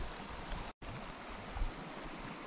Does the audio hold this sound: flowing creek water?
yes